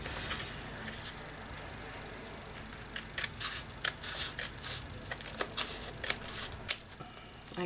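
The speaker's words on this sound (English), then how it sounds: "I'm going to snip that bottom part off." Scissors snip off the bottom strip of an abstract collage artwork, a run of sharp, close cutting clicks and paper rustles spread across several seconds at fairly low level.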